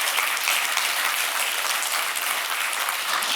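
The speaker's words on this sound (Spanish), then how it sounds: "Hermanos, un aplauso para el grupo de alabanza" A church congregation applauds the worship group with dense, steady clapping that holds evenly from start to finish, no voices on top.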